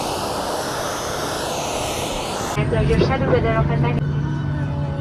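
Airliner cabin on a flight to Milan: a steady broadband jet engine roar fills the first half, then shifts to a lower, rumbling hum with faint talk mixed in.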